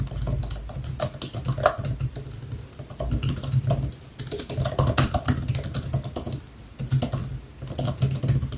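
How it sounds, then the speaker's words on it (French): Typing on the Magic Keyboard of a 2020 Intel MacBook Air: a steady, close stream of soft key clicks with brief pauses, no talking. "d'abord commençons par le clavier, c'est un Magic Keyboard, très bon"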